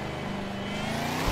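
A BMW E92 engine revs steadily under load while driving in gear, a loud, continuous growl that climbs slightly in pitch and ends with a sharp thump.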